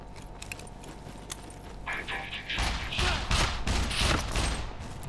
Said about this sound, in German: Ja, schießt schon wieder durch die Wand.